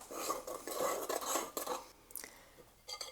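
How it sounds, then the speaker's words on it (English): A utensil stirs baking powder into cake batter in a bowl, making repeated soft scraping and clinking strokes in uneven bursts, close and fairly quiet. "You need to spread out the baking powder and mix it in very well so that you don't get any dry lumps in the cake."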